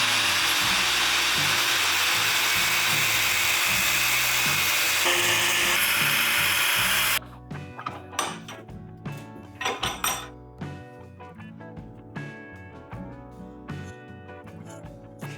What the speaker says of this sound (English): guess I'll bust out the old angle grinder.